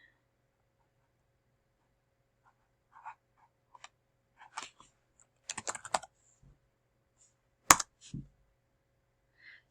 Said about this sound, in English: Run the code, type in your name,